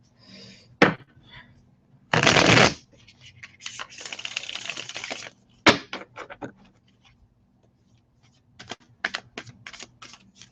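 Tarot cards riffle and slap together in short bursts, with a long shuffling rustle and scattered clicks and taps nearby, no talking.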